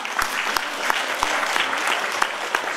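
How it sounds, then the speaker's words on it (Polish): Steady applause from an audience at a charity fundraising concert, dense and sustained throughout, with a few sharper claps standing out near the front. "Brawa dla koleżanki z pierwszego rzędu, 40 zł. Brawa,"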